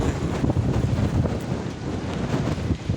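Strong, gusting wind blows hard outdoors in Lahore, with trees swaying. It roars continuously against the microphone in a dense, rumbling rush, rising and falling slightly in waves with no voices.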